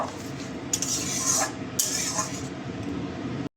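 A spoon stirring spice paste with a little water in a bowl while cooking a Bengali fish curry, producing a continuous close scraping and clinking that stops abruptly at the end.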